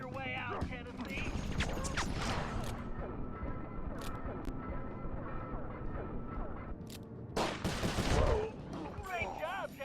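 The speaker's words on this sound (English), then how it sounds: "Looks like you're gonna have to shoot your way out, Tennessee." Gunfire crackles in Sly Cooper Thieves in Time as repeated shots ring out in rapid bursts over game music, then a louder cluster of blasts arrives near the end.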